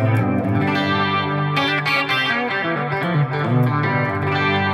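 A clean, warm electric guitar tone run through a chorus effect, playing ringing chords and melodic phrases continuously at a steady level with no talking.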